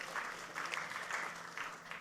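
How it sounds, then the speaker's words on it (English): An audience at a fintech panel discussion applauds a panelist with steady, moderately faint clapping that holds through the whole stretch, heard from a distance in a large room. "A huge round of applause."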